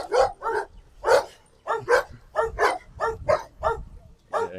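Rottweilers on a farm bark loudly and close by, a rapid series of about ten sharp, evenly paced barks filling the whole stretch with no one talking.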